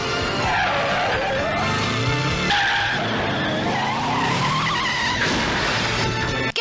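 Car in a James Bond film chase, driving backwards and then forwards fast, with loud sustained tire squeals and skidding over a roaring engine throughout, up close and continuous.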